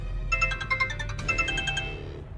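An incoming call rings on a phone as a repeating electronic melody of bright, evenly pulsed tones, fairly close and clear over a low background hum, with no voices.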